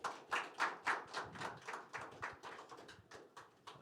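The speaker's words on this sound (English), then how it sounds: "A round of applause, please, for our two gentlemen here" A live audience claps and applauds two speakers on stage at an event, a dense, steady round of hand claps lasting several seconds and gradually tapering off.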